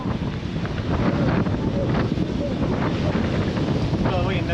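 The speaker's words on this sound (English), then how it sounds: "Unfortunately, it's more windy than rainy, so we get even more salty." Strong squall wind roars across a sailboat at sea, a loud, steady buffeting rush with wind noise on the microphone throughout and faint voices in the background.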